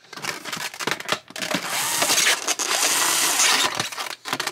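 A small 3-volt electric screwdriver whirs in short, uneven bursts with clicks and clatter between them, running in a longer spell near the middle.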